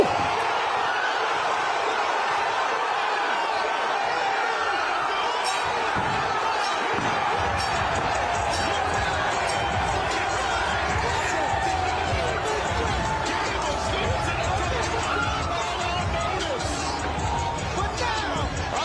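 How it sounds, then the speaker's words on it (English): Arena crowd at an MMA event roaring after Gable Steveson's finish, a loud sustained wash of cheering and shouting that holds steady throughout, with commentary voices over it. "Just listen to the reaction in the crowd."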